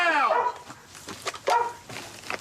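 A police dog barks and whimpers inside a house during a search, with sharp close barks and yips in short bursts.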